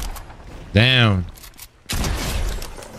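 Explosions and gunfire from a Fortnite match: a loud burst of blasts and shots cuts in mid-clip, then a second dense burst follows a brief lull, with a voice heard faintly underneath.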